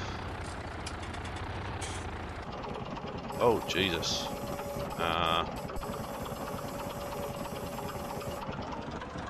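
Tractor engine in Farming Simulator 19, a steady low diesel rumble idling under a man's brief exclamation, with a short hiss and clatter and a faint high whine partway through.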